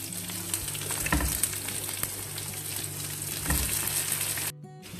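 Tomatoes added to a sizzling curry base of chili, ginger garlic, curry leaves and cumin fry with a steady loud hiss and crackle, close up, with a stirring clatter or two before it cuts off near the end.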